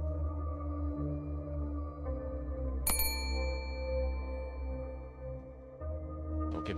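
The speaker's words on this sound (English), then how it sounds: "Ringing the bell still does nothing." A bell rung once in the horror video game Pigblue, a sharp bright strike that rings out over a steady low droning ambience, with a faint chime at the very end.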